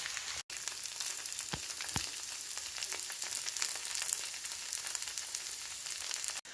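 Vegan mock black pudding frying over medium heat, a steady close sizzle with occasional sharp pops and crackles.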